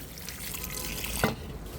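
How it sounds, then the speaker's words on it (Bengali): Water trickles and pours onto a potted plant with a steady wet splashing, close and moderately loud, with a brief sharper splash near the end before it tapers off. "গাছের একটা চানও করিয়ে দিই এই এই জল দিই"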